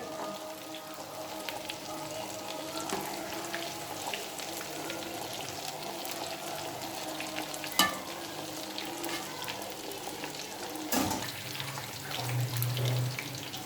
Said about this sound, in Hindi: एक तरफ से हमारी मछली अच्छी तरह गोल्डन ब्राउन हो चुकी है। अब हम चम्मच की मदद से इसको उल्टा लेंगे।